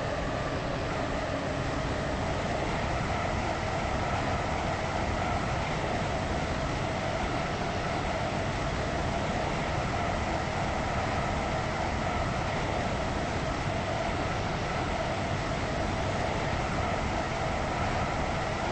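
A Class 321 train runs on Stepford Connect in a game, a continuous steady rumble of wheels and motor with a low drone that holds level throughout, no talking.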